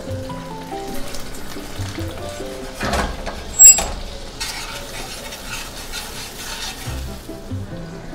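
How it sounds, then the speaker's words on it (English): Hot sauce stirred into melted butter in a pan for buffalo wing sauce, a soft steady sizzle with stirring scrapes, a brief louder splash-like burst midway, close and without talk. "Now I'm adding hot sauce to the melted butter."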